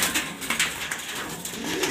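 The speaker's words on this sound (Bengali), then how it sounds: "এটা একটা নর কবুতর" A male fancy pigeon in a breeding loft coos in low repeated pulses, close to the listener, with other birds faintly audible behind it and no talking.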